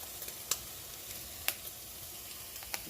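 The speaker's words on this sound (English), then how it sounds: "So just want to keep rotating your tomatoes and jalapeno." Tomatoes and jalapeno roasting in a pan hiss with a faint steady sizzle, broken by a few sharp pops and crackles.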